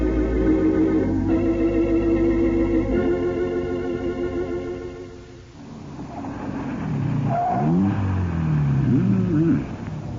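A 1940s car starts, its engine revving steadily, then shifting and pulling away into a fading rumble, staged as an old-time radio drama effect with no talk over it.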